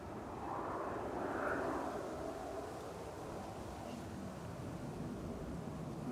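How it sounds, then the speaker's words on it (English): DHL Boeing 757 passing overhead above cloud on its way to Nottingham, a faint, low rumbling drone that swells briefly early on and then settles into a soft, distant hum. "DHL 757 to Nottingham"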